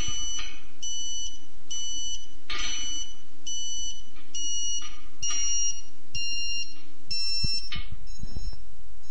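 Repeated electronic beeper tone from a Surfbeam 2 satellite terminal during antenna pointing, sounding in short regular pulses of about half a second, close and steady, its pitch shifting slightly toward the end, over a low hum.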